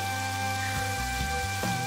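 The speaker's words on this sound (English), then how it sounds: "All of a sudden, more droplets fall down, until it's all but pouring rain" Rain begins pouring down outdoors, a steady hiss of falling drops with no voices, heard over a constant tonal backdrop.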